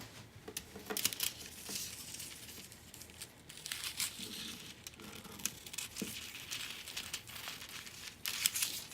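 Heat transfer foil sheet is handled and cut, giving faint, close crinkling and rustling in irregular bursts with soft snips and crackles.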